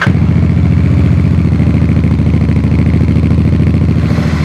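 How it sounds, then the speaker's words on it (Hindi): A Royal Enfield Bear 650 motorcycle idles up close, its exhaust giving a loud, steady, rhythmic thumping throb with a slightly clattery texture, and no voices. "आगे बढ़ते हैं, चलिए इसके एग्जॉस्ट नोट्स को सुनते हैं अब।"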